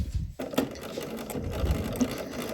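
A sewing machine whirs steadily at close range, stitching a seam allowance onto a bias tape facing along a shirt hem, running continuously without pause or talk.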